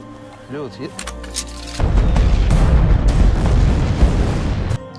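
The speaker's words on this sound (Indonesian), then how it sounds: "menginjak pemicu ranjau yang membuat ledakan di mana-mana" After a few sharp cracks and a brief tone, a loud rumbling minefield explosion erupts and roars on for several seconds before cutting off.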